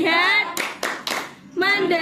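Three quick, loud bursts of unison clapping from a classroom group in a rhythmic clapping routine, bracketed by the children chanting together before and after.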